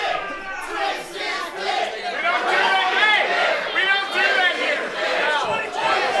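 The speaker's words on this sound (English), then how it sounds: "Crowd chanting for the dick twist." A wrestling crowd at an independent PrideStyle show chanting in unison, a loud rhythmic mass of voices filling the venue, with commentators talking over it.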